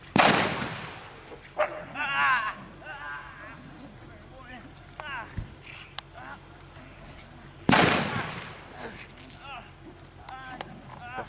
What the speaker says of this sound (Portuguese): Tá fortinha essa bomba